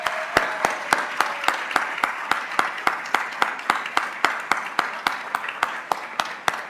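Applause rises at a Washburn University employee recognition ceremony honoring staff with ten years of service. Crisp, evenly spaced claps close to the microphone, about three per second, stand out over a softer wash of audience clapping and continue steadily throughout.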